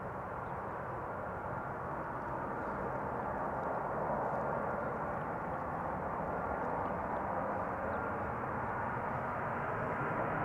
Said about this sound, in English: this is KLM flight 1422 arriving from Birmingham